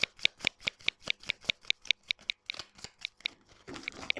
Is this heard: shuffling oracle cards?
yes